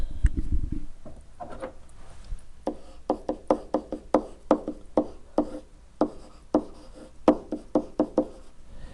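Pen or chalk strokes write out a derivative, a run of quick, distinct taps and scratches in uneven bursts, close and fairly quiet, after a short low thump at the start, with no talking.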